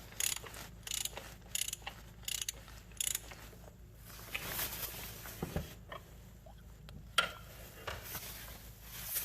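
Fuel filter cap on a 6.0 Powerstroke diesel being unscrewed by hand, giving close, intermittent ratcheting clicks and scraping bursts with quieter gaps between turns.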